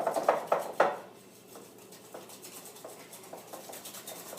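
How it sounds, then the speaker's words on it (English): A whisk beats butter in a bowl and makes a run of fast clinking, scraping taps. A few louder knocks come at the start, then lighter rhythmic tapping continues up close, with no voices. "I'm going to use my whisk here to cream the butter just for a couple seconds"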